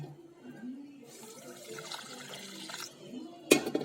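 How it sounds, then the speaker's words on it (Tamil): Water poured from a cup into sugar in a pan to make rasgulla syrup, a soft, steady splashing trickle lasting a couple of seconds, followed by a brief clatter at the end. "1 கப் தண்ணி ஊற்றிக்கலாம்."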